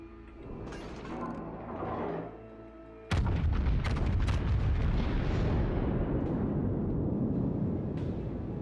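Battleship main guns fire in the World of Warships naval game, a sudden loud booming volley that breaks in partway through and rolls into sustained low rumble, after a quieter stretch of engine and ambient hum.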